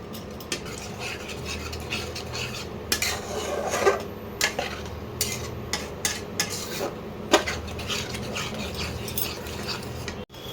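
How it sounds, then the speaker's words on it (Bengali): Spices and oil being stirred and fried in a pan for a Bengali shol (snakehead) fish curry, a steady sizzle under repeated scraping and clinking of a spatula against the metal pan, close and continuous. "এবার আরেকটু কষাতে হবে।"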